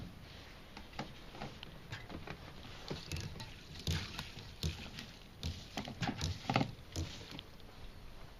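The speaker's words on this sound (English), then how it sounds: "And there we go, got the siphon running." Gasoline drains through a siphon hose out of a lawn mower into a gas can. Faint, irregular trickling and pattering splashes come and go at close range, with no speech.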